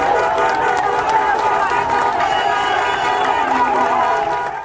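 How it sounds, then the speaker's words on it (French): Protest crowd outside a palace gate cheering, clapping and chanting, a dense loud roar of many voices with mixed shouts, close and continuous, easing at the end. "Entre cris de victoire, applaudissements et chants, la tension était palpable ce vendredi devant la grille du palais."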